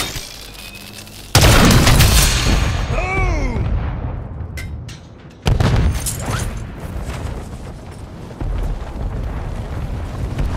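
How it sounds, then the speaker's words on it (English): Mortar strike explosions in Call of Duty Modern Warfare III, two heavy booming impacts a few seconds apart with rumbling tails, amid distant battlefield noise and brief radio-style voice. "Heads up! Friendly mortar strike!"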